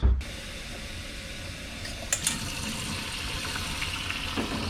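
Tap water at about 105 degrees runs steadily into a container for mixing mantou dough, a continuous close hiss and splash that starts abruptly and carries on with no talking.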